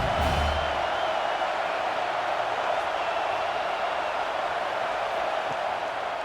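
A stadium crowd at a Houston Roughnecks at Birmingham Iron football game gives off a continuous broad roar of cheering. It stays steady and dense throughout, with no clear breaks.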